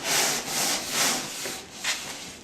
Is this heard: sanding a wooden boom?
yes